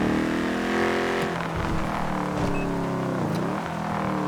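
A Chevrolet Camaro ZL1 police car engine in the LSPDFR driving game, holding a loud steady drone with shifting pitch that dips briefly a few times, filling the whole stretch with no talk over it.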